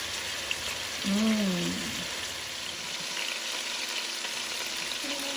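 Oxtails browning in a pan give off a steady, close sizzle and spatter throughout, with a brief murmur of voice early on.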